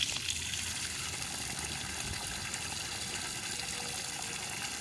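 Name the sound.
borewell submersible motor pumping water under pressure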